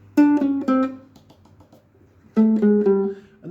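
A ukulele plays a strummed riff, two short phrases of bright plucked chords separated by a brief pause, close and clear with no voice.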